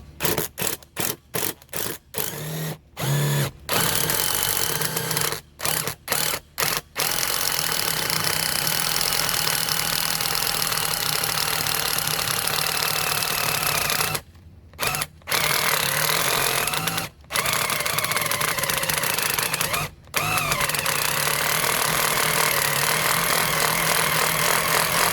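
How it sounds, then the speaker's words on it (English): A power drill bores into a wooden 4x4 post, running loud and close for long stretches, stopping and restarting in short bursts, then grinding steadily with a few brief pauses. "Go ahead and drill this."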